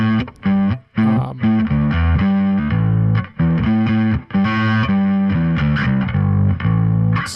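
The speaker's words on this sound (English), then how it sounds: "this is a model of a distortion pedal made by Dark Glass" Bass guitar run through an Axe-Fx III modeling a Dark Glass B7K distortion pedal, a gritty, modern tone with a solid low end, played as choppy riffs of repeated notes with short gaps between phrases.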